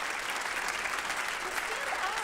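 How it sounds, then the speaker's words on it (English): Applause from an audience at a high school awards night, a steady dense patter of many hands clapping throughout, with a few faint voices calling out over it. "So I want to give them a round of applause."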